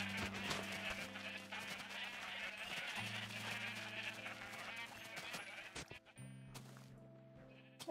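Sheep in a blocky survival farming game bleat repeatedly in layered, tonal calls, with a steady run of game-animal noise, clear and close throughout with no voices.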